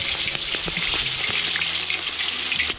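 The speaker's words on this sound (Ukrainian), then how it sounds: "Разом з цибулькою, разом з маринадом, все вигружаємо туди і підсмажуємо з усіх боків." Chicken legs with onion and marinade frying in a kazan, a dense continuous sizzle and crackle with small pops throughout, close and steady, no voices.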